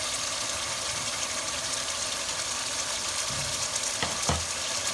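Chopped fried onions going into a hot pan for chicken korma, a continuous close sizzle and hiss with a couple of brief clattering stirs or scrapes near the end, no voices.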